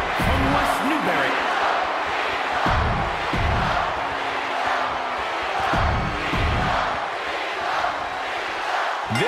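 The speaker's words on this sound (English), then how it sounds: "The crowd has been buzzing about this all day" Arena crowd roaring and buzzing steadily at a WWE Universal Championship title match in a wrestling video game, a dense continuous wall of cheering with periodic thumps and swells running throughout.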